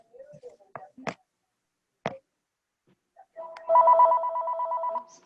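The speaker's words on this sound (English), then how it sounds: "My phone is ringing here, so I'm muting myself." Telephone ringing during a town Board of Selectmen meeting: a brief warbling electronic ring burst follows a few scattered clicks and knocks, fairly faint and with no talk over it.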